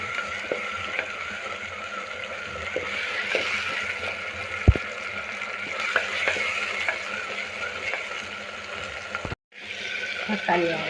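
Tomato, onion and garlic sauté in a pan with a steady close sizzle, scattered stirring taps and clicks, and a brief drop to near silence before the frying resumes.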